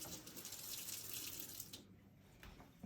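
A kitchen tap runs steadily for a couple of seconds, a bright rushing hiss of water that cuts off abruptly, then drips and small splashes follow.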